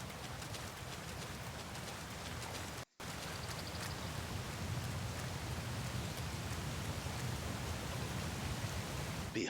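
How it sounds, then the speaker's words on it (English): Waterfall in Metal Gear Solid 3 Snake Eater, a steady broadband rush of falling water held at an even level throughout, with one brief dropout near the start. "There's the waterfall."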